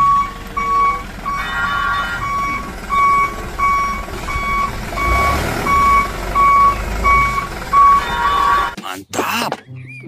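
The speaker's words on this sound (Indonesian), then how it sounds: "Truk pasir lagi" A sand truck's reversing alarm beeps steadily in a regular rhythm over an idling engine rumble, with a voice briefly heard near the end.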